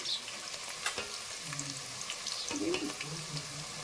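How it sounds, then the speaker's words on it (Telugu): Chopped onions frying in oil for a country chicken curry, a steady broadband sizzle with stirring clatter throughout, close and fairly loud, with a faint voice briefly underneath. "ఇవన్నీ మనం ఫ్రై చేసేద్దామండి. ముందుగా ఆనియన్స్ వేసేద్దాం."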